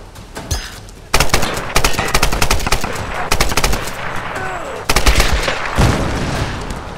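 Assault rifle fire in the Tomb Raider game, loud rapid automatic bursts in quick volleys, with a short pause and then renewed firing, dense and close throughout.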